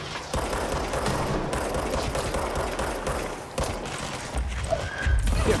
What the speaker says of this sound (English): Are those gunshots? Yeah, they are.